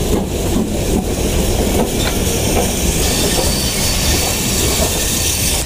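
A North York Moors Railway steam train rolls along the tracks with a loud, steady rumble and a high squeal from the wheels, and no one speaks.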